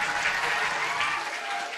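A gathered audience in Bihar gives a burst of loud, continuous clapping for a newly posted officer who earned a top rank. The applause is dense and uninterrupted, easing a little toward the end.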